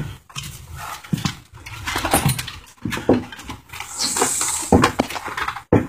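A dog pants and moves about close by on the porch of an off-grid home, with scattered bumps and short broadband noises but no clear barking.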